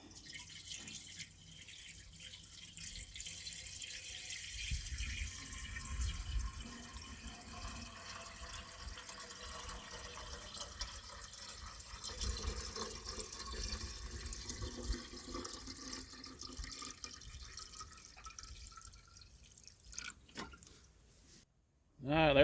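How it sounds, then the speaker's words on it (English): Water poured into a tractor radiator to top it off, a steady trickling and dripping stream running for many seconds at moderate level, ending with a brief louder knock. "we'll top it off with some water"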